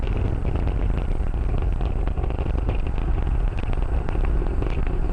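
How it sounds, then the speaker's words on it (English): A SpaceX Falcon 9 first stage's Merlin engines, throttled down for max Q during a crewed launch to the International Space Station, make a steady, loud, broadband rumble that roars continuously without pause. "The first stage is throttle down power on the Merlin engines in preparation for max Q."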